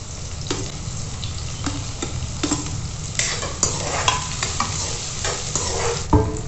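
Chillies added to onions frying in oil on high flame, a steady loud sizzle with repeated scraping stirs of a spoon against the pan, close by.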